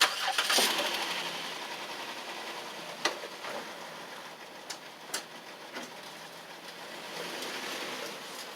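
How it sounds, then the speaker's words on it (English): A vehicle's engine starting before it drives up Garvee hydraulic car ramps, a hissing mechanical start with a few scattered knocks and clicks, fairly faint, and birds faintly in the background. "we'll go ahead and drive the vehicle up"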